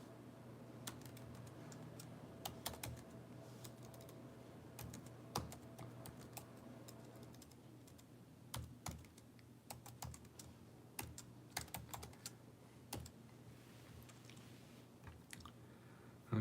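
Typing on a computer keyboard while entering a zip code, a steady run of close, quiet key clicks with irregular bursts and pauses over a low background hum.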